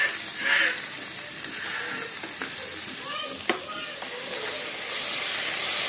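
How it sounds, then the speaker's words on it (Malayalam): Onions sauté with salt in a pan for white chana masala, sizzling steadily and close up throughout, with occasional stirring scrapes and clinks. "ഉള്ളി ഇട്ട് നല്ലതുപോലെ ഒന്ന് വഴറ്റിയെടുക്കാം. കുറച്ച് ഉപ്പൂടി ഇട്ട് കൊടുക്കാം ഉള്ളി വഴറ്റുമ്പോൾ."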